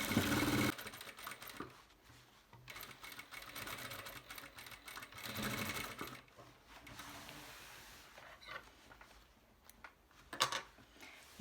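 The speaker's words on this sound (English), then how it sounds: "you stitch all the way around it with 1 centimeter, the seam allowance" Sewing machine stitching a summer dress seam around with a 1 cm allowance, fairly faint bursts of stitching that rise and fall with pauses and small mechanical clicks between.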